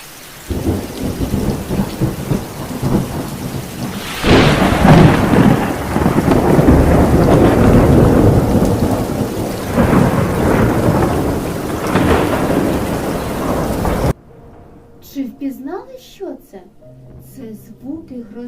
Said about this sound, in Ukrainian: А коли ми чуємо грім, то з'являється блискавка.